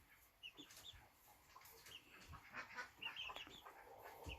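Faint clucking from several chickens, scattered soft calls coming and going at a distance, with no talking.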